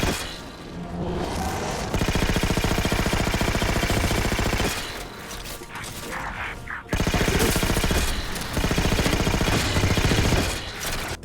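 Rapid automatic gunfire from a video game gun with poor accuracy, loud dense bursts of shots in two long stretches with a brief lull between, close and dominant throughout.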